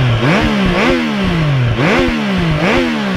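A Triumph Trident 660 motorcycle engine revs repeatedly up close, the pitch rising sharply in several throttle blips then dropping back to a rough idle.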